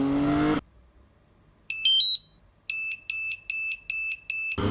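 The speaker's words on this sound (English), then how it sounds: "That's all you get when you power it up. You just get this incessant beeping." Electronic beeping from a drone's remote controller: a longer tone, then a steady run of short, evenly spaced high beeps repeating after a pause, close and clear.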